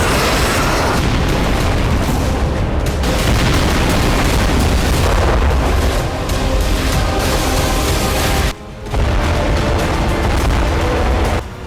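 Loud, dense blasts and rumbling booms from strikes on Russian territory across the Ukrainian border, rolling almost continuously with one brief drop near the end, no voices.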